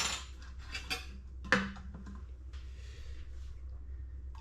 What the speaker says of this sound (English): we're going to stir in the dissolved citric acid into that milk very gently